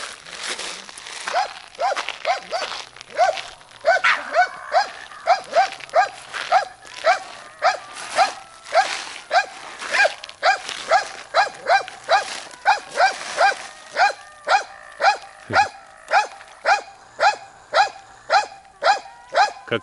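A dog outdoors on a rainy hike near a dugout growls and barks in a long, steady run of rhythmic pulses, fairly close and loud.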